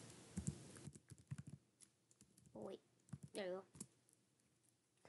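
Clicky typing on a computer keyboard into a search bar on a school laptop, short bursts of keystrokes close by, with a voice speaking over parts of it.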